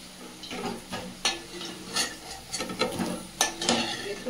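Potatoes frying in hot oil in a cooking pan: close, irregular scraping and clattering stir strokes roughly every half second over a faint sizzle, with no talking.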